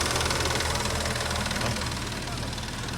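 An Audi A7 engine idles outdoors in cold weather with a steady, low rumbling drone that stays constant throughout.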